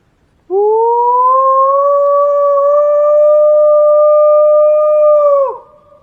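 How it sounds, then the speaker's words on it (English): A single long, steady coyote howl rises and holds for about five seconds before sliding down and fading, clear and sustained at night, with no talking. "It's coyotes"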